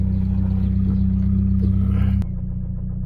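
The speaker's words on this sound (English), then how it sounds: "you can leave just the car running and you can hear the engine." A worn car engine runs close by with a loud, steady low drone and rough mechanical clatter, changing pitch slightly near the end.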